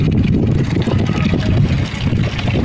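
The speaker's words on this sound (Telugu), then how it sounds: "చూడండి ఫుల్ గాలి కూడా వస్తుంది, ఎండ గాలి." Strong, hot dry wind on a sunny day buffets the microphone in a steady, loud low roar, with gusty rustling throughout and no talking.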